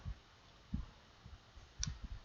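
Quiet computer mouse clicks while drawing a sketch in SolidWorks 2017: a few soft, close taps spread irregularly, with a sharper click near the end and no talk.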